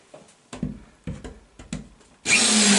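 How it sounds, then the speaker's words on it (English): A one-speed drill catches while drilling, giving four short bursts of grinding and jamming, each followed by a pause. It ends in a sudden loud, sustained whir, close by with no talking. "this is a 1-speed drill, so it's just all or nothing. That's why it's catching so bad"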